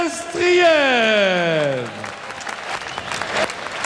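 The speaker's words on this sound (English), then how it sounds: "sous vos applaudissements, le Russe Andrei Pestriaev" Boxing crowd applauds and cheers at a vacant championship bout as Russian fighter Andrei Pestriaev is introduced. A loud, drawn-out announcer's voice rings over it at first, then steady near clapping carries alone.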